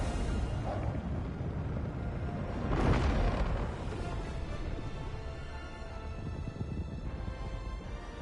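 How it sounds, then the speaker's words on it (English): A dropship lifting off amid an explosion in Helldivers 2: a muffled boom bursts out about a third of the way in, then a low rumbling roar trails off beneath the continuing ambience. "Look at that glorious explosion as I take off."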